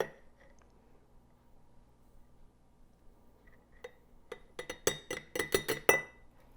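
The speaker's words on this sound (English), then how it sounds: "I find it easier if you stir in some of the flour first rather than dump it all in" A spoon stirs flour into a thick sourdough starter in a glass jar, first with quiet faint scrapes, then with a quick run of sharp glassy clinks and taps near the end.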